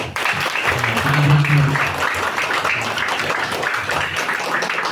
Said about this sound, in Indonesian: mari sama-sama kita beri tepuk tangan kepada tim advokasi pembela Kampung Tanah Merah